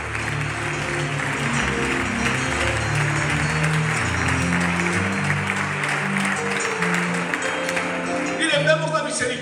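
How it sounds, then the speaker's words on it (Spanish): Congregation applauding the Lord during a church sermon, a steady wash of clapping with voices and cheers mixed in, lasting throughout and fairly loud. "¿Le puedes dar un aplauso al Señor?"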